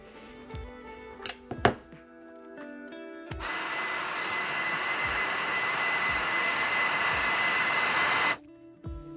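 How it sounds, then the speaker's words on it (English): A hair dryer warms a painted miniature model: a few soft knocks, then a steady, loud blowing roar that runs for about five seconds before cutting off abruptly. "maybe I'll hair dry this model for a bit and try an application"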